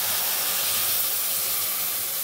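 Water is poured into a hot pan of spiced kochur loti (taro stolons) and sets off a loud, steady steam hiss that holds at one level, with no talking over it.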